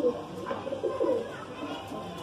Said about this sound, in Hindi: ये कबूतर देखिए साहब आप,